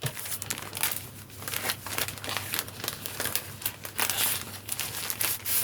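Decorative gift paper crinkles and rustles continuously for several seconds as an advent calendar present is unwrapped, with close, busy crackling and brief tearing-like bursts and no voices.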